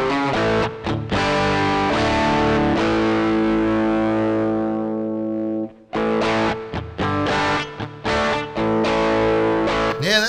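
A high-gain electric guitar at full gain through a Flamma FX50 portable multi-effects headphone amp strums, lets a thick chord ring out and fade, then resumes with choppy riffing.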